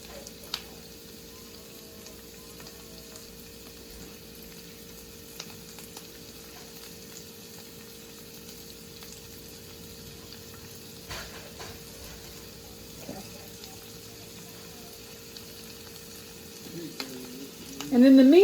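Chorizo sizzles in a skillet with a steady, soft frying crackle throughout, a few light clinks of a utensil, and a louder scrape near the end.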